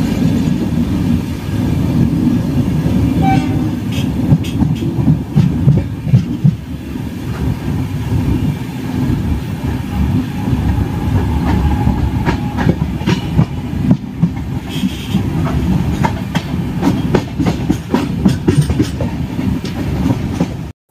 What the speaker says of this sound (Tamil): நம்ம Tamil Nadu super fast express daily run ஆகிற ஒரு வண்டிங்க